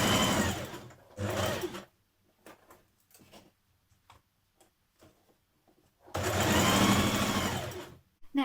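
A sewing machine stitches the bodice lining of a summer jumpsuit in two loud runs, a pair of short bursts at the start and a longer steady whirr near the end, with quiet clicks and handling between them.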